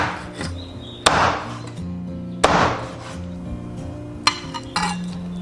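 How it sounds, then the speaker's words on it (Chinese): Cleaver chopping chicken legs into small pieces on a board: three sharp heavy chops spaced apart, with lighter knocks and clinks of kitchenware in between, close and without talk. "我们把刚才的鸡腿斩成小块"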